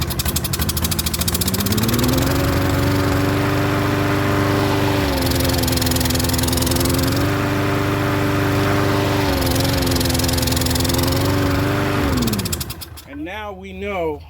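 A Troy-Bilt lawn mower with an intermittent starting fault catches and runs loudly and steadily at close range, its engine note holding with slight dips before abruptly cutting off near the end.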